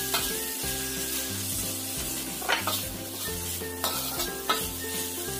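Fried rice with seasoning is stirred in a sizzling frying pan, a steady frying hiss broken by occasional scrapes and knocks of the utensil against the pan, close and alone.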